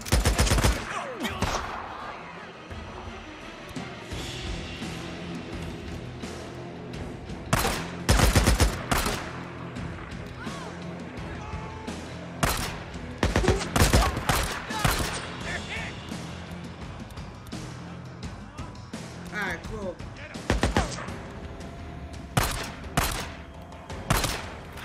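Dense gunfire fills a battle in the video game Days Gone, with repeated loud shots and rapid bursts layered over a busy game soundscape, and a player speaks at times over the shooting.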